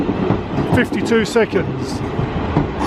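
A South Western Railway train pulling into Virginia Water station, rumbling and clattering loudly at close range with squealing brake tones, while a person talks over it on the platform.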